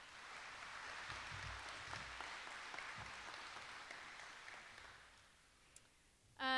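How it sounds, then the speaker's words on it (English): Applause from an audience at an 8th grade promotion ceremony, fairly distant and soft, sustained for several seconds before fading out, followed by a sudden louder burst at the end. "please give them a round of applause for helping"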